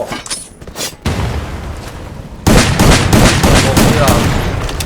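Rapid bursts of gunfire from the video game Free Fire, loud and close, with dense automatic fire dominating the latter half after a brief lull.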